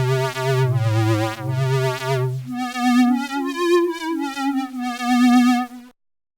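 A retro synth patch sounds from the Serum synthesizer as sustained buzzy square-like tones, a low note followed by higher notes with wobbling pitch, played alone before stopping abruptly.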